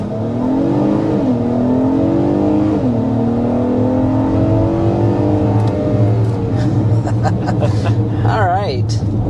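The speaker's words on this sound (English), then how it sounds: "here's a quick acceleration up to 55 miles per hour in the refreshed Acura MDX" A refreshed 2025 Acura MDX with a V6 accelerates up to 55 mph, its engine note climbing steadily through rising gears under continuous road and tire noise, with a voice talking faintly near the end.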